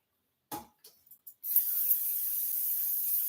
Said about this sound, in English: Now I'm going to spray it with the right stuff.